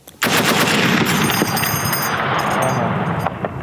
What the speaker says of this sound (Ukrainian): верхня клавіша, ми натискаємо вказівним пальцем, і у нас відбувається постріл